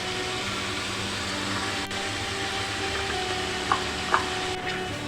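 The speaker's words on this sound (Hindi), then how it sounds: "लहसुन अदरक के साथ ही भून लेंगे।" Garlic-ginger paste fries in oil in a karahi for Peshawari chicken charsi karahi. A steady, fairly loud sizzle runs throughout, with a couple of light utensil clicks near the end.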